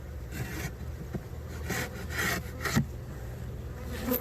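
Hive tool scraping propolis off the edges of a stuck beehive inner cover, soft intermittent rasping strokes, fairly quiet, with faint buzzing in the background.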